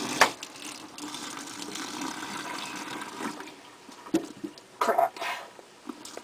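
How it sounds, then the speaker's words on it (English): Cooked apples are drained at a kitchen sink, liquid splashing and gushing into the basin in an uneven stream with a few sharper spatters near the end, close and moderately loud. "We're going to take it over to the sink, strain out any remaining liquid."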